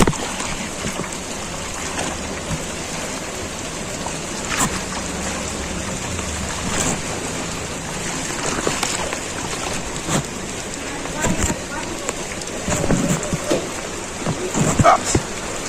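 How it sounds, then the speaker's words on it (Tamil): Heavy rain pours down during a flood in Chennai, a steady dense hiss of water on surfaces throughout, with a few sharper splashes and knocks near the end. "நன்றாக மழை பெய்து கொண்டிருக்கிறது கடுமையான மழை பாருங்க"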